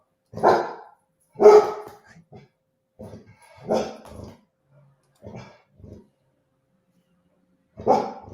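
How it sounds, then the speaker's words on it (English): A female Great Pyrenees guard dog barks repeatedly at close range in irregular bursts, with some quieter grumbles between the louder barks and a longer pause before the final bark. "It's a Great Pyrenees."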